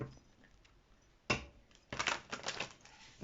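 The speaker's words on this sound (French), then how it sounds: "je mélange les cartes" Tarot cards being shuffled by hand, quiet crisp riffling and flicking bursts, faint with near-silent gaps between.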